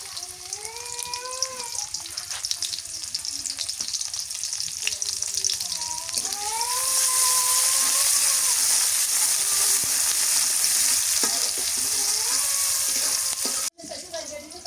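Onions hit hot oil in a pan while brigade fish is being cooked, giving a loud, continuous sizzle that intensifies about halfway through. A voice and tonal background sounds run beneath the frying, which cuts off briefly near the end.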